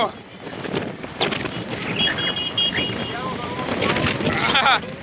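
Strong, cold gusting wind roars and rushes across an open street with carts and stalls, buffeting close by, while a person talks over it.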